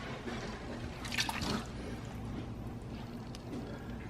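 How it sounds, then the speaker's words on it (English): Canned tomatoes poured into a pan of browned lamb for a Moroccan lamb casserole, a short wet splashing pour swelling near the middle, then soft liquid settling against a low background hum. "we're going to pour in our tomatoes"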